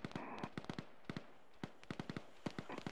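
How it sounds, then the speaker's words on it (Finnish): Rapid bursts of gunfire from the Arma 3 military game crack out ahead in irregular clusters, sharp reports of varying loudness spread across the moment with brief gaps between volleys. "Edessä kuuluu laukaukseen."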